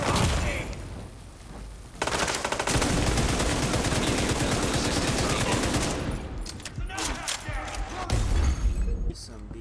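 Heavy gunfire in the shooter video game The Division 2, sustained loud machine-gun bursts and rattling shots, close and dense, with voices talking amid the firefight.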